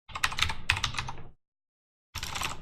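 Close, quiet computer keyboard typing while entering a username and password, two quick runs of keystrokes, a pause of silence, then another burst of typing.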